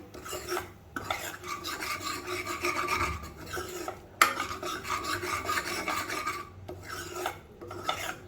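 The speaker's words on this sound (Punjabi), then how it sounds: "ਸਲੋ ਤੇ ਭੁੰਨਾਂਗੇ ਆਪਾਂ ਇਹਨੂੰ ਤੁਸੀਂ ਚਾਹੋ ਤਾਂ ਤੇਜ਼ ਤੇ ਵੀ ਕਰ ਸਕਦੇ ਹੋ" Watermelon rind paste is stirred and slow-roasted in a pan, with repeated scraping strokes of a utensil rasping across the metal in rhythmic passes broken by short pauses, over a faint low sizzle and no voices.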